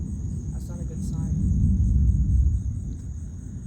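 Long rolling thunder from an approaching thunderstorm, a deep low rumble that swells to a peak midway and then eases off, with a steady high insect drone behind it and a faint voice briefly audible.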